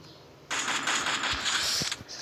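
Rapid automatic gunfire in Free Fire, a Hindi-language mobile battle game, crackles as a dense, loud burst lasting close to two seconds.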